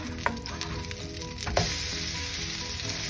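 Freshly flipped potato cakes sizzle in a hot frying pan, a steady close crackle and hiss that jumps louder just after the turn, with a couple of faint scrapes from the spatula.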